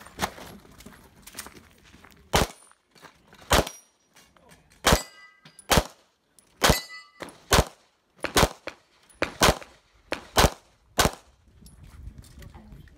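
An IPSC pistol stage fires rapid single gunshots, each sharp crack followed by a metallic clang of steel mini poppers, plates and swinging targets, about a dozen hits in an uneven, quick rhythm, loud and close.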